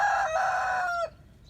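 A domestic rooster crows in a garden early in the morning, one loud, close call with a sustained harmonic tone lasting about a second before cutting off sharply, leaving quiet afterward.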